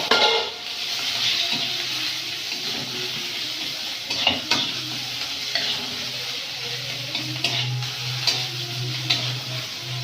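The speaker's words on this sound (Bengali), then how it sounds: "পেঁয়াজটা ভালো করে ভাজা ভাজা করে" Chopped onions with black cumin seed fry in a pan in a village kitchen, a steady sizzling hiss under repeated scraping stirs, with occasional louder spatula knocks against the pan.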